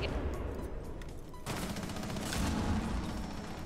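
Gunfire rings out during a Rainbow Six Siege match. Rapid shots crackle at moderate volume, and a denser burst of fire starts midway. No one speaks.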